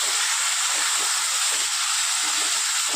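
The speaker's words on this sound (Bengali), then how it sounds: "এবার দিয়ে দেবো বেটে রাখা আদা রসুন এবার এটা কষিয়ে নেবো" Ginger garlic paste sizzles as it is sautéed with fried pointed gourd in a pan, a loud, steady, unbroken hiss filling the whole stretch.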